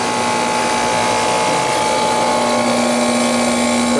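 Condenser fan on a Cold Shot 7.5 ton KIG chiller turning slowly in a shop, a steady close mechanical hum with a fixed tonal whine, unbroken throughout.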